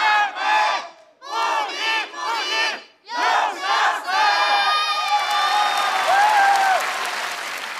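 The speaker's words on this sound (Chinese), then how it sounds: "喊出你们的口号，喊出你们对他的支持" A crowd of fans at a Tibetan music concert chants slogans in rhythmic bursts, then breaks into sustained loud cheering, whooping and applause.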